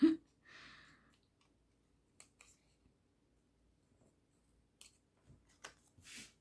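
Scissors cut paper for a handmade shaker tag, giving a few crisp, close snips and light clicks scattered across an otherwise quiet room.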